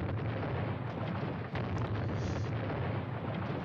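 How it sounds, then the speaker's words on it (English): Heavy artillery shells burst in a dense, continuous rumble of blasts in the WWII strategy game Squad Battles Red Victory, with a loud booming wash and no pauses. "Probably more incoming artillery here."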